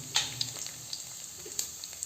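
Cumin and mustard seeds sizzle and pop in hot oil, a faint close hiss broken by scattered sharp crackles.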